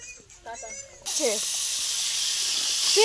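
Crabs drop into a hot frying pan and burst into a loud, steady sizzle that fills the rest of the moment, with a voice speaking briefly before and over it.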